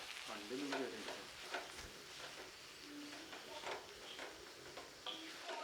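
Clam roast (kakka) with curry leaves being stirred in a frying pan as it dries, a steady sizzle and hiss under repeated scraping stirs, close and fairly loud throughout.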